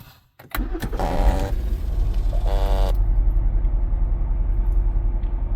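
A 2013 Lincoln MKX with 110,000 miles, fresh spark plugs and new ignition coils, cranks briefly and fires up, then settles into a steady, close idle with a faint beep near the start.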